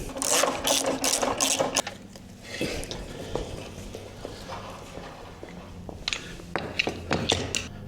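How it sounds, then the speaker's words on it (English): A ratchet works a 3/4 inch bolt loose on a Jeep JK Rubicon during a tow loop install, with rapid close clicking at first, then quieter scattered clicks and clunks. "I got to take off another bolt"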